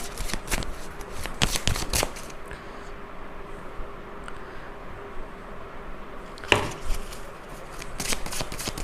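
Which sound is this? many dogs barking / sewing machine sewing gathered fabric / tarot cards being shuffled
tarot cards being shuffled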